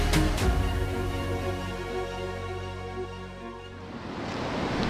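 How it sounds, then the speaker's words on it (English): Ocean waves break and wash steadily against the cliffs at Ethel Wreck on South Australia's Yorke Peninsula, a dense continuous roar of surf with some wind noise and faint tonal sounds running through it. "Waves are pumping, cliffs."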